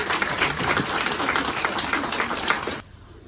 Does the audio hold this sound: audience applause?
yes